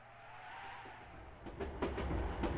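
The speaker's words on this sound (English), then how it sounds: "And he gets hit by a train." A train rumbles in and strikes a character in the game Dreamweb, a low roar building over a couple of seconds into a series of clattering impacts near the end.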